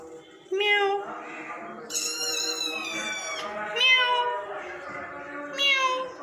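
A cat meows repeatedly up close, several drawn-out, rising and falling cries separated by short pauses, loud and clear with no one talking over them.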